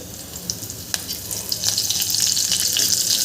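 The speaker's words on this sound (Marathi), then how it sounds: "मिरच्या छान परतलेल्या आहे आपण यामध्ये कढीपत्ता घालून घ्यायचा आहे" Curry leaves dropped into green chillies frying in hot oil for a fasting tempering: a few light crackles, then a louder, bubbling spatter that builds and keeps popping, close up with no voices.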